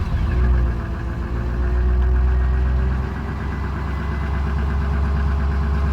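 A 1997 GM truck with a 5.7 V8 engine and a suspected restricted fuel filter idles steadily up close, a low, even rumble with a slight uneven knock and no talk.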